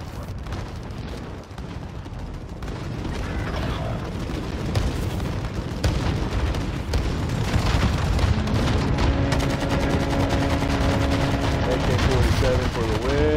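Rapid AK-47 gunfire in the Warzone video game, with loud dense bursts and booms running continuously under a player's talk.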